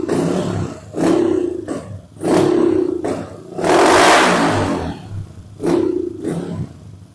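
A motorcycle engine running on its original spark with a badly adjusted carburetor revs in repeated uneven bursts, loud and close, stumbling between throttle blips with one longer rough rise in the middle.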